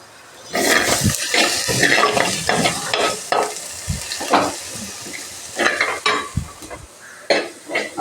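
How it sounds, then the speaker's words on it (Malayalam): Pieces of fish for pickle fry in a pan, giving loud, bursty sizzling and spattering with scraping stirring strokes, close up and without talk. "മീൻ അച്ചാർ നല്ല കുറച്ചിട്ട് വറുത്തെടുക്കാം"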